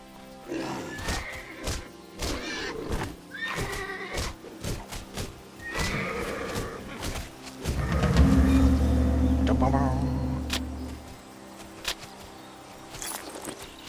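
A horse neighs and whinnies in the video game Titan Quest, several loud cries amid thuds and clopping, with a sustained low groaning stretch in the middle and talk weaving through.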